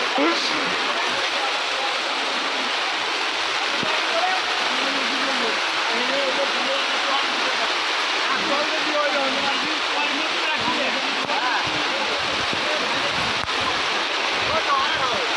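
Heavy rain pours down on the open-air Talma haat market as a steady, dense roar, while people talk through the downpour.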